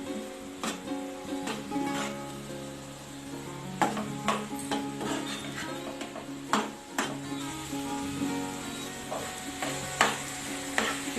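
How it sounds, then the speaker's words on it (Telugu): Jaggery syrup simmering and reducing in a pan while being stirred, with repeated scraping and tapping of a utensil against the metal over a low bubbling sizzle, close and without talk. "ఇప్పుడు ఈ నీరంతా పోయి దగ్గర పడేంత వరకు ఉడికించుకోవాలి"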